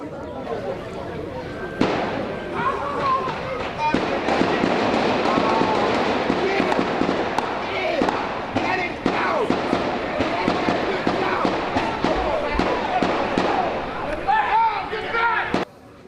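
Rapid bursts of sharp gunshots crackle continuously at a distance, dense and overlapping, with faint voices and commotion beneath them.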